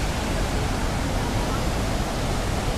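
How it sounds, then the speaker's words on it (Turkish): The Palovit waterfall drops about 15 metres, swollen by recent rain, giving a dense, unbroken roar that fills the whole moment at close range. "Palavi Şelalesi 15 metre yükseklikten dökülüyor."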